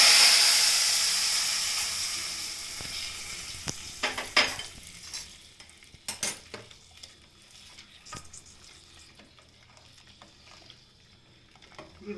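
Tadka seasoning sizzles and boils in hot oil, a loud broad hiss at first that gradually fades, joined by a few sharp clinks and scrapes of stirring.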